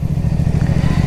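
A CFMOTO 450SRS sport motorcycle engine runs steadily while riding, a close, loud, even low-pitched drone with a fast pulsing firing rhythm and no talk over it.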